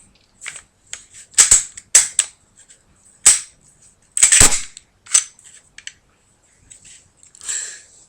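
A Glock 22 or S&W M&P 40 pistol is reassembled with its slide put back on, producing a scattered series of sharp, close metallic clicks and clacks separated by quiet gaps.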